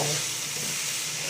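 Onions, tomatoes and spices fry in a pan and are stirred, giving a loud, close, continuous sizzle with faint scraping underneath.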